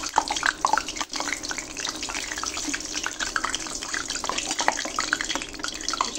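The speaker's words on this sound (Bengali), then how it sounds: "পিঠাটা আস্তে আস্তে সুন্দরভাবে বেজে চলে আসবে" Pitha cake fries in hot oil, giving a continuous crackling, bubbling sizzle at moderate loudness with no voices.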